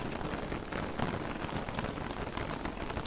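Steady dense rainfall from a storm in the game Don't Starve Together, an even unbroken patter across the whole stretch with no pauses.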